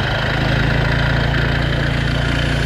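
Small engine of a stunt scooter running with a steady, loud, throbbing pulse, holding a fairly even idle-like rumble close by rather than revving sharply.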